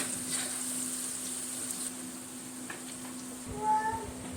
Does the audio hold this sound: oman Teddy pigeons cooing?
no